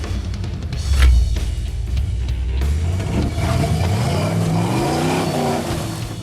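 A Jeep Grand Cherokee V8 with an arm kit and ARB air lockers revs hard off-road, a loud throaty roar that surges early, then holds and climbs in pitch as the engine pulls.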